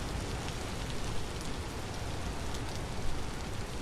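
Rain falls steadily in the Vintage Story video game, a dense, even hiss of drops on surfaces with a low rumbling undertone, constant and fairly loud with no talking.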